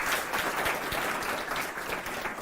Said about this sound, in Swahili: Sauti ya jaji wetu mzee wa Mitulinga, tumpige makofi huyo.